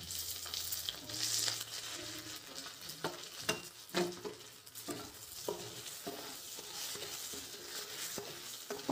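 Chana dal, onion and green chilli frying in a pan for rava upma, a soft continuous sizzle broken by repeated stirring scrapes and taps of a spoon, fairly quiet and close.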